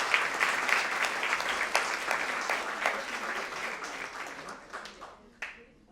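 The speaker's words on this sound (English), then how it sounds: "So round of applause for all of you first." An audience at a tabla debut recital breaks into sustained applause, dense clapping close and fairly loud that gradually thins and fades out over several seconds, a voice briefly audible within it.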